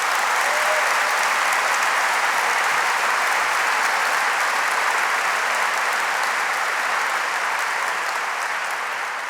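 Crowd applause at an evening rally honouring activists fighting gas pipeline projects, a dense, loud, continuous wash of clapping that holds steady from start to finish.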